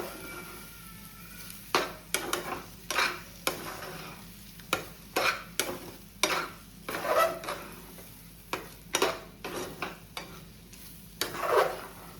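Egg bhurji sizzles in a pan while a spoon scrapes and stirs it in repeated short strokes, close and fairly loud over a steady frying hiss, with no speech.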